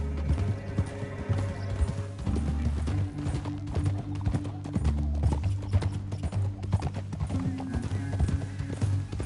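Horse hooves gallop in Red Dead Redemption 2, a loud, fast, rhythmic clip-clop of several riders running steadily together, with snorts and a low rumbling backdrop throughout.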